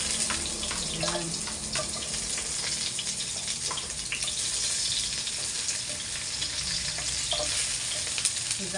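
Onions sizzle steadily in a hot pan, a dense continuous frying hiss with occasional small crackles and pops, close and fairly loud throughout with no talking.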